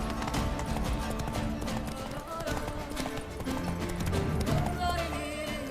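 Roach, a horse in The Witcher 3, gallops with steady rhythmic hoofbeats under an orchestral game score, with a voice urging the horse on.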